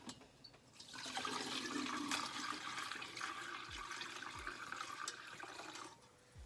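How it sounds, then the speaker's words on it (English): Clove juice pours steadily into a jug for several seconds, a gurgling stream that swells, holds, then tapers off, with a few low thumps near the end. "And I just pour it in."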